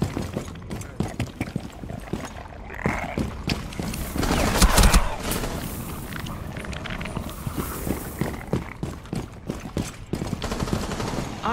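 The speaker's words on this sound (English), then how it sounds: "Armored nest is under fire." Dense bursts of rapid gunfire from a video game battle around an armored nest, machine-gun rattles and single shots overlapping in a loud, continuous barrage with scattered footsteps and impacts.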